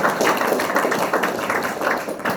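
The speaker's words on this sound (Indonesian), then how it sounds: "Ini tepuk tangan yang meriah" A crowd of university students in Manokwari claps lively together, a dense steady patter of many hands filling the short stretch at close, even loudness.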